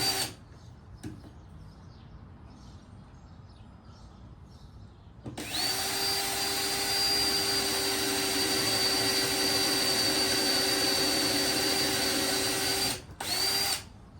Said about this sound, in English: Simple little dumb drill bit. Even for any kind of material, right? Just zip a little hole.